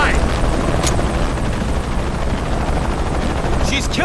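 A helicopter in the Shadow of the Tomb Raider video game thunders close and loud with a constant rotor drone, and brief voices break in over it.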